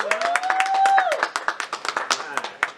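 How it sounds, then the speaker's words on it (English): A small group in a studio claps for a guest, a few sharp close claps mixing with a voice calling out and whooping over them. "let's go ahead and clap it up for her one more time."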